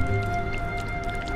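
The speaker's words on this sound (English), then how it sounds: "That plant did not like getting splashed on like that." Wet paint splashes onto a plant in the game Chicory: A Colorful Tale, a soft squishy splat among steady background game music.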